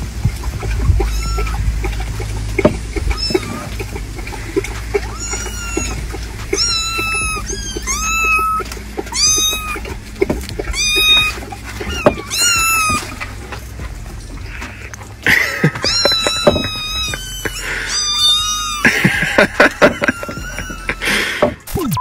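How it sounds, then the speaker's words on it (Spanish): Several kittens meow repeatedly from inside a watering can, high insistent cries overlapping in bursts throughout, with occasional rustling and faint background noise. "¿A que no adivinas cuántos gatitos pueden entrar en esta regadera?"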